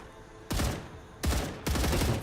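Enemies in a factory-building video game fire at the player from cover, three separate bursts of rapid gunfire, fairly close and loud, with a brief lull between them.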